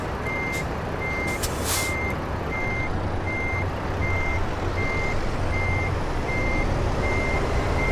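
A semi truck in American Truck Simulator reverses to park a trailer, its reversing alarm beeping steadily and evenly over a loud, rumbling diesel engine, with a brief hiss of air early on.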